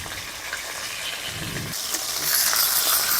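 Tilapia fish frying in a pan of oil, cooked one piece at a time, makes a continuous crackling sizzle. The sizzle turns louder and brighter toward the end of this short stretch.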